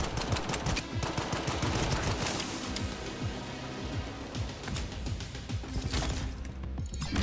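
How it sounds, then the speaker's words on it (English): Rapid automatic gunfire from the video game STALKER 2, dense continuous bursts of shots with impacts and clatter filling the whole stretch, loud and without pause. "He eats nearly 800 bullets, but in the end I weaken his exoskeleton enough and I finish him off with the last couple of rounds."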